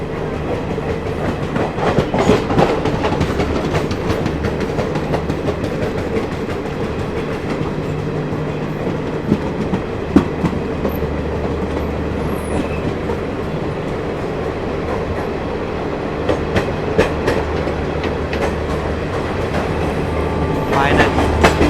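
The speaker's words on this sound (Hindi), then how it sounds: "बरेली भुज आला हजरत एक्सप्रेस।" The Bareilly–Bhuj Ala Hazrat Express running on parallel track, heard from a passenger train between Kanpur and New Delhi, with a loud, continuous rumble and rhythmic wheel clatter plus occasional sharp clanks and faint voices underneath.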